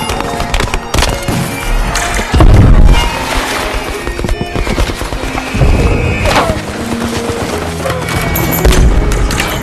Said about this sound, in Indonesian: Berondongan peluru, ledakan mortir, dan lemparan granat menyambut mereka.